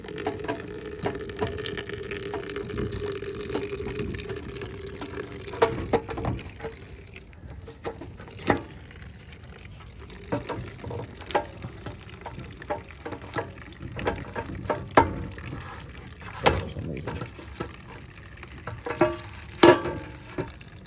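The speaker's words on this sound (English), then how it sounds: "We're going to drain all the fuel off of it." Fuel drains from the carburetor of a Simpson 3400 PSI pressure washer, a faint steady trickle and dribble of liquid near at hand, mixed with scattered clicks and handling knocks and no talk.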